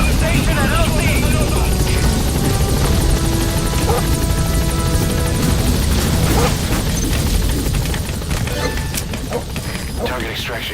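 A helicopter in the game Metal Gear Solid V: The Phantom Pain roars loudly and steadily during an extraction, its rotor drone mixed with game voices, thuds and clanks, easing slightly toward the end.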